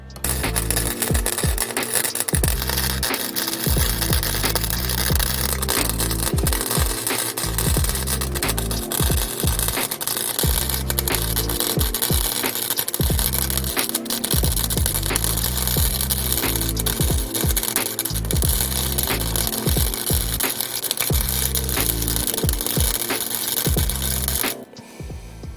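Welding a metal book and phone holder: a loud, steady crackling and sizzling arc that runs without a break for about 24 seconds and then cuts off abruptly.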